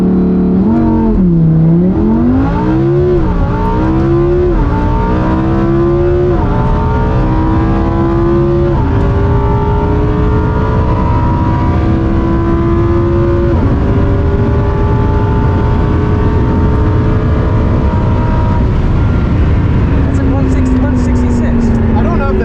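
A McLaren 600LT or Huracan Performante supercar launches hard and accelerates, its loud engine note climbing steadily through a run of quick upshifts, each shift dropping the pitch before it rises again over continuous road roar.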